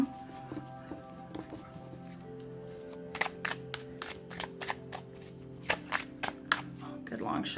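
Tarot cards get a long shuffle, sounding as a run of sharp, crisp riffling bursts spaced through the second half, close by over a low steady background hum, with no clear talk.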